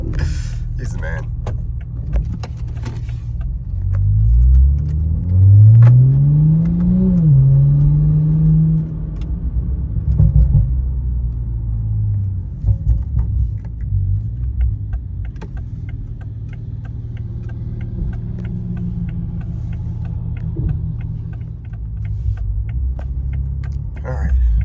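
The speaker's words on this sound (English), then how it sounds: "Sounds like my neighbor's starting up his 700 plus horsepower CTSV." A modified Cadillac CTS-V with over 700 horsepower starts and revs nearby, a deep rumble rising in a sweeping pitch climb before settling into a steady throaty idle that continues for the rest of the stretch.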